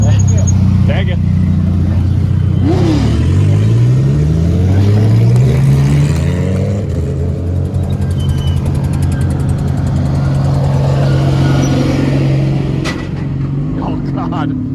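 Gearbox whine and engine drone from a car being driven, a replica vehicle, with a steady low hum rising and falling in pitch as it accelerates and shifts, running throughout under occasional voices.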